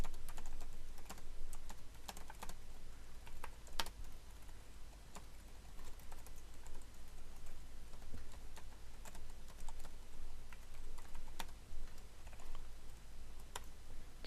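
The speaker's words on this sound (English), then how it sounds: "I can't seem to type today." Rapid clicking on a computer keyboard, close and fairly loud, coming in uneven bursts of keystrokes with short gaps over a low steady hum, no voices.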